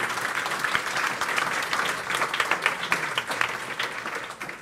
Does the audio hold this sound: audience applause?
yes